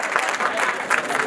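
Guests applaud at a Rwandan wedding, a short burst of crowd clapping that holds steady at moderate loudness with voices mixed in.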